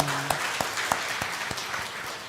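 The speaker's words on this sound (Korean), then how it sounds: "우리 박수 한번 하겠습니다." Church congregation at a Sunday Thanksgiving service applauding after the choir's hymn, a soft, steady patter of many hands clapping at a distance, fairly faint, with a few sharper individual claps standing out.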